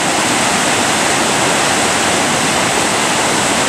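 Imeretinka mountain river flowing in May, a loud, steady broadband rush of water running without pause, with no voices over it.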